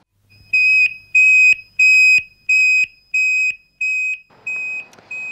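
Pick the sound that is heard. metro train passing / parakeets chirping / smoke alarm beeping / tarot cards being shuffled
smoke alarm beeping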